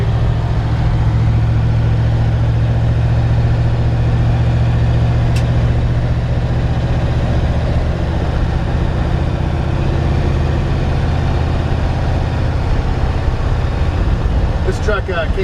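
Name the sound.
1948 Ford F1 truck driving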